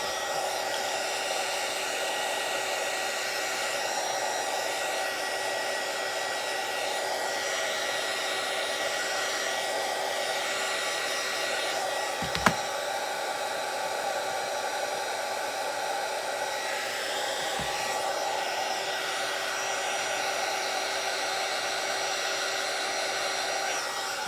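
A hair dryer blows steadily to dry paint on a doodle art background, a constant loud whooshing drone with a faint tonal whine, running unbroken and close throughout, with no voices.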